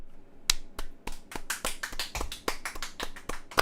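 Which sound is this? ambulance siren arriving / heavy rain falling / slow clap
slow clap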